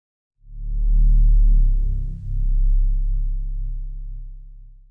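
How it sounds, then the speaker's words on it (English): A deep low bass sound design element from a hybrid music cue swells in after a short silence, a dark rumbling tone with a slight dip and second swell, slowly fading as it sustains. "One of my favorites was this low bass thing that you put in."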